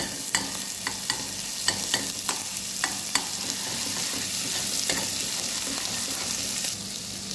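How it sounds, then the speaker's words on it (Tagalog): Crushed garlic sautés in a pan, a continuous sizzle broken by a series of sharp clicks from a utensil early on, then a steadier fry. "igisa na natin ang crushed bawang"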